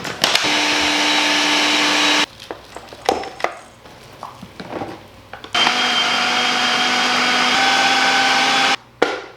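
A blender grinding a cocoa powder and salt mixture runs in two loud, steady whirring bursts, with a pause of quiet clattering and handling noises between them.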